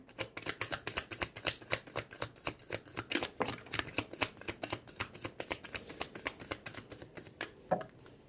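Tarot cards being shuffled in a fast, steady run of crisp riffling clicks, close and quiet, with no voice over them.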